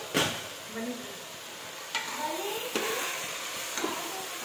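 Tomatoes go into a pan of frying ridge gourd (gilki/turai) with chana dal and get stirred, giving a steady close sizzle with a few sharp scrapes and clatters of the spoon against the pan.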